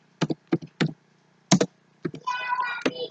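Keys clack on a computer keyboard while an Excel median formula is entered: a handful of separate sharp taps, then a quicker run of typing near the end, close and fairly loud with no talk over it.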